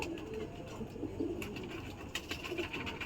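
Pigeons coo quietly as they feed, soft low calls repeating near the microphone against faint background hiss with no voices.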